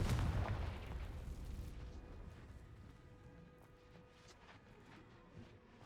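A Confringo fire spell blast in the Hogwarts Legacy video game opens with a loud, deep boom that fades into a long rumbling tail, with faint scattered clicks and no talking.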